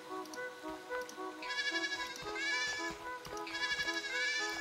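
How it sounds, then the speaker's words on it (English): Sheep bleating in the video game Sword and Sworcery, a few wavering bleats that come in bursts over soft layered game music, fairly clear but not loud. "Let's click on the sheep."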